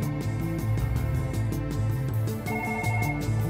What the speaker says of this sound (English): The scene opens in Children's Hospital Boston Emergency Department with a trauma notification alert.